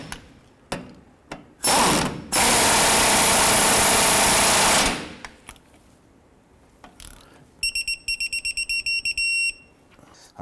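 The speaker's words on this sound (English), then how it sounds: "I'm going to go ahead and use the impact just to bottom these out" A pneumatic impact wrench bottoms out the strut bolts on a 2007-2014 Cadillac Escalade's front upper control arm, firing in two long, loud bursts. A rapid series of short hammering bursts follows.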